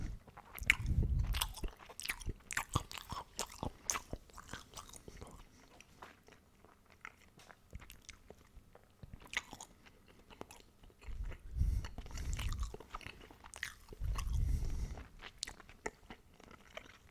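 Meatballs are chewed up close in intimate eating, with wet squishy bites, soft crunches and smacking mouth sounds in irregular bursts, plus occasional low thumps from the jaw.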